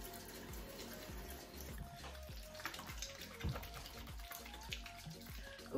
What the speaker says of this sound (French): peut-être que j'ajoute un peu d'eau